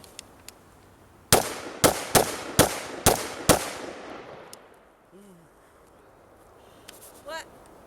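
AR-15 rifle fired at a shooting range, six sharp, loud shots in quick succession with a short echoing tail after each, then quiet with a brief voice near the end.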